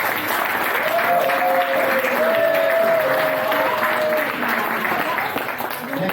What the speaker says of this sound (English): So round of applause for Graham Feely.